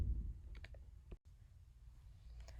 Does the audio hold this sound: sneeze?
no